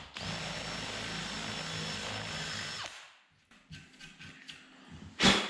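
A power drill with a large drill bit runs steadily for a few seconds boring a countersink hole into old timber, then spins down, followed by light knocks and a sharp clatter.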